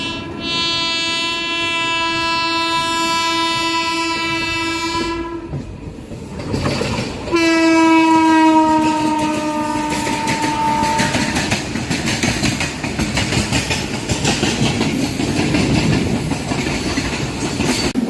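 The Simhadri Express runs with a loud, sustained horn blast, a short pause, then a second horn, followed by continuous rumbling and clattering of the wheels on the rails.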